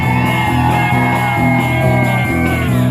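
A concert crowd screams loudly and steadily on cue, a dense wall of yelling voices sustained throughout while a band's music pulses underneath.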